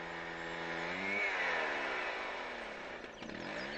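A chainsaw cutting through wood, the two-stroke engine droning loud and close with a steady buzzing whine that rises and dips in pitch as the bar bites and the load changes.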